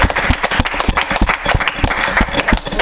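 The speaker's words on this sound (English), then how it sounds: "give her a nice round of applause" An audience at a school broadcast applauds a coach of the year, with sharp individual claps standing out from a lively patter of hands over a few seconds.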